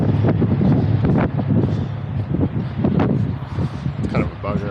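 Gusty wind buffets an outdoor microphone at a work site, a loud continuous low rumble with rough surges and dips throughout.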